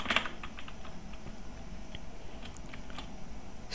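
Steady, close keyboard typing on a computer while writing code, a continuous patter of quick key clicks with a few slightly louder strokes, no voice over it.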